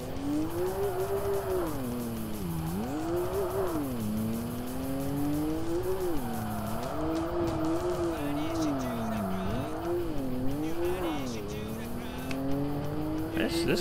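A car engine in the Tokyo Xtreme Racer Drift 2 video game revs and shifts continuously, its pitch rising and falling through gear changes, with tire squeal mixed in and steady loud engine drone throughout.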